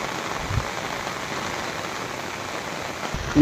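Steady broadband rushing of water, constant and fairly loud throughout with no voices, from the Chillar River flowing beside farm fields.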